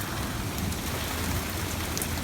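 Steady rain falls outdoors in autumn around flooded ground, a dense, even hiss that stays constant throughout with no voices or other sounds standing out.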